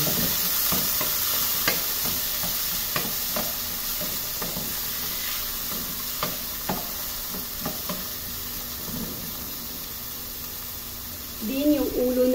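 Garlic, onion and tomato sautéing in a pan for fish miso sinigang, a steady sizzle and hiss with repeated scraping stirs, close up under a speaking voice.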